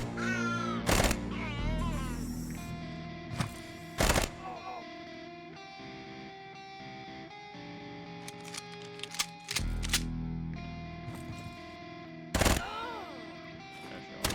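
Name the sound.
gunfire from the video game Quasimorph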